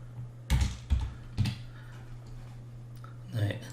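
A few scattered keystrokes on a computer keyboard, quiet and close, with short pauses between the clicks over a steady low hum.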